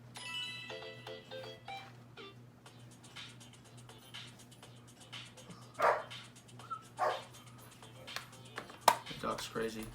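A dog barks several times at varying distances, sharp yelps spread through the clip under a person talking, with a faint electronic tone near the start.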